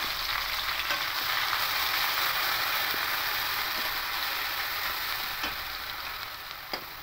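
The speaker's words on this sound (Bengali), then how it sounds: "এবার এখানে পেঁয়াজ যে পেস্ট করেছিলাম পেঁয়াজটা দিয়ে দেবো।" Onion paste frying in hot oil in a pan gives a steady, close sizzle with light stirring scrapes and no talk, trailing off slightly at the end.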